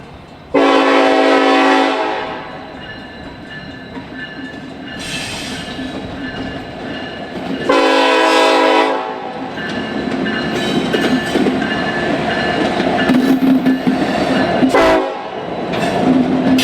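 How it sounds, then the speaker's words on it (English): A Norfolk Southern SD70M-2 locomotive creeps up a connection track onto a rail line, sounding long loud horn blasts over the steady rumble and clatter of the train, with wheels squealing faintly. "The train is now headed geographically west-northwest as they creep up the connection track off of the Kankakee line and onto the nickel plate."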